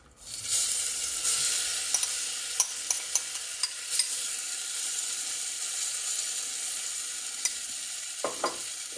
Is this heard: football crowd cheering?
no